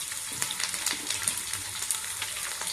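Curry leaves crackle and sizzle in hot oil, a brief, dense spatter of fine popping and hissing that is fairly quiet and steady, with no voices.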